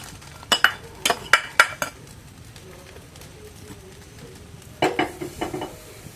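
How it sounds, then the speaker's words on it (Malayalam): Spoon stirring lemon pickle with asafoetida and chillies in a pan, heard as a few sharp clinks and scrapes against the metal in two separate bursts, with quiet kitchen noise between them. "ഇനി ഇത് നന്നായിട്ട് ഇളക്കി യോജിപ്പിച്ച് അടച്ച് വയ്ക്കാം"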